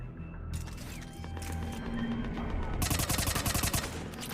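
Rapid gunfire from a weapon in Mass Effect 3, loud bursts of repeated shots growing denser toward the end over game ambience.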